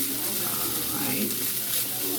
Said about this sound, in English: frying it up really good in the frying pan